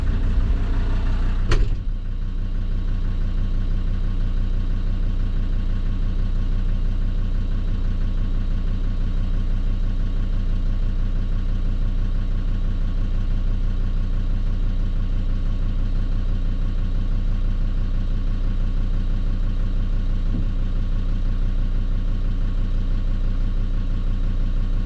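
A farm tractor sits idling in the cold, its steady low engine drone holding unchanged and close, with one brief sharp knock near the start.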